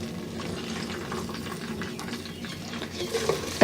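Tomato paste mixture stirred in a pan while cooking U.P.-style chura matar, a soft scraping and slushy stirring with a faint sizzle underneath, fairly quiet and continuous.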